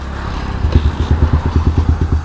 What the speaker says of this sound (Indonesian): Ini adalah pure sound dari knalpot Lone Ride ya